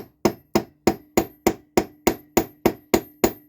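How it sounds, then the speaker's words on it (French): Copper wire is hammered flat on an anvil: about twelve sharp metallic strikes in a steady, even rhythm, each ringing briefly before the next, close and loud with no talking. "Donc j'ai mon marteau et j'ai mon enclume."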